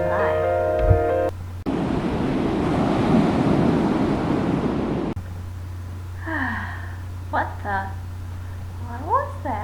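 Ocean surf washing in at a beach, a broad steady rush of waves lasting a few seconds in the middle, with voices and music-like tones before and after it.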